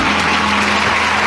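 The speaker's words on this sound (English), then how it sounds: "So Wayback be given a huge round of applause." A round of applause fills the whole moment, a dense, steady wash of many hands clapping over a low hum, with no voices.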